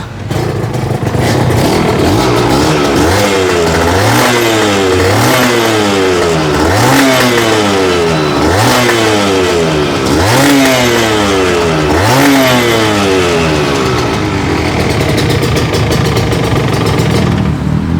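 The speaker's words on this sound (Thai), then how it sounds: "มาฟังเสียงทีซอาคันนี้ก่อน" A two-stroke Yamaha TZR motorcycle engine revs up and down repeatedly, loud and close, each throttle blip rising and falling in a rapid buzzing cycle.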